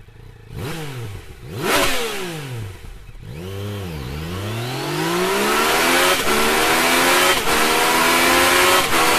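Yamaha MT-09 motorcycle with its stock exhaust, revving up and down in several loud, close blips before holding a rising, sustained high-rev roar.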